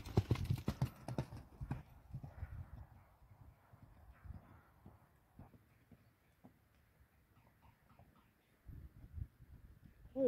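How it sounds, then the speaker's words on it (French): A horse galloping outdoors, its hooves clip-clopping in a quick, uneven rhythm that is loud at first, then fades and returns, with faint bird calls in the background and no talk. "Il y a quand même un bon petit coup de galop"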